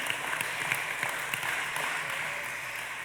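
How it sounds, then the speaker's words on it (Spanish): A church congregation gives a quiet, steady round of applause after a sermon passage, a soft wash of clapping throughout with no voices. "Denle ese aplauso al Señor"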